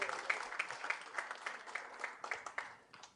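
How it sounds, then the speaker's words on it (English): Audience clapping at a women's safety initiative event, fairly faint and distant, with individual claps distinct in an uneven rhythm over a few seconds. "Give a round of applause."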